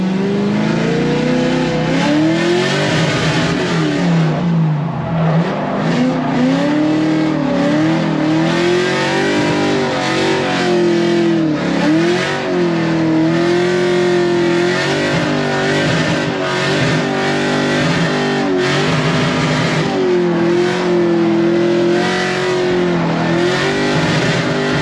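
A 500HP LS3-powered Mazda Miata on a race track, its V8 roaring loud and steady from inside the car, climbing and dropping in pitch through gear changes and corners, with brief tire squeal.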